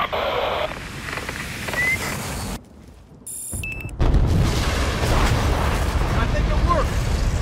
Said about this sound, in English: Stand by for bomb drop.